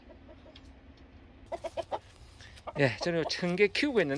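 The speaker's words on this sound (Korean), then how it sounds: "꼬꼬닭 소리가 들리네요" Chickens in a henhouse next to a vegetable garden give soft, scattered clucks, then someone speaks close by while the birds carry on faintly behind him.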